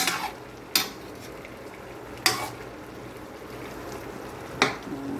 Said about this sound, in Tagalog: Haluin lang po natin kasi marapit ng maluto.